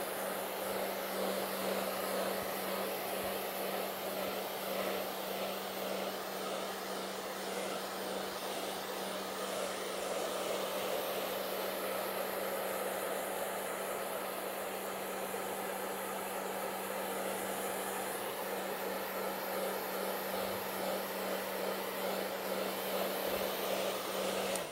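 A small hand blower runs steadily and close by for the whole stretch, a constant whirring airflow drying the wet background layer of a painting, with no talk over it.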